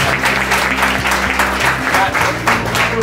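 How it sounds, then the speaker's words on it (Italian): Audience applause at an evening seaside trattoria festival in Versilia, a steady dense clapping that holds at full level throughout, close and loud, with musical tones running underneath. "Applauso supplementare per la serata, veramente."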